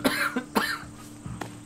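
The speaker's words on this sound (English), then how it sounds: "you got the cough there" A character in Assassin's Creed Odyssey gives a few short, sharp coughs close by, the bursts spaced unevenly across a brief moment and no other sound in between.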